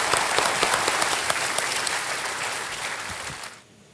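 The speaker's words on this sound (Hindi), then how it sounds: "सो कर्नल वेम्बू शंकर के लिए तालियां बज जाएं एक बार" A television game show studio audience applauds, a full dense clapping sound with a few sharper claps standing out, gradually fading and dropping off sharply near the end.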